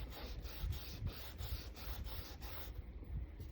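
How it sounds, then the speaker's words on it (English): A tool scrapes and rubs across the bottom of a painting surface in a series of rhythmic strokes, each a rasping sweep repeating roughly every half second, close and fairly quiet. "I don't know what I'm scraping on the bottom here"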